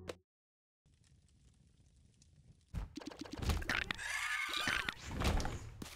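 A bomb in The Binding of Isaac: Repentance goes off with a sudden thudding burst after a quiet stretch, followed by a busy rush of game noise.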